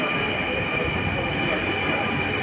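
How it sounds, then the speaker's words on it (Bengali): A Dhaka metro rail train on the Motijheel line pulls into a crowded station with a steady, continuous rumble and hiss that holds throughout. "মতিঝিল লাইনের মেট্রো রেল চলে আসছে"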